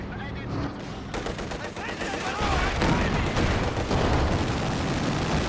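A T-85 tank fires a heavy shot at German Grenadiers during a Company of Heroes 2 battle, a dense barrage of booms and rattling gunfire rolling on steadily with a voice talking over it.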